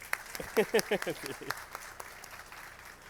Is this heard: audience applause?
yes